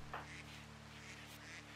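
Ducks in the Rimworld video game give a few faint, short quacks over a steady low hum of game music, quiet and somewhat distant.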